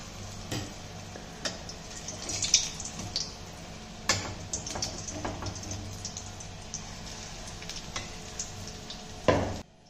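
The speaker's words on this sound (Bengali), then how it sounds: "অল্প তেলে সুন্দর ভাজা হচ্ছে" Small pieces of food fry in a little oil with a soft, steady sizzle, broken by occasional clicks and taps of stirring. The frying is close and fairly quiet, with no talk.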